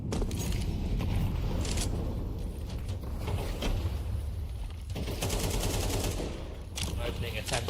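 Rapid AK rifle fire in a competitive Counter-Strike-style match, dense bursts of loud automatic shots crowding the mix alongside game effects, with commentators talking over the action.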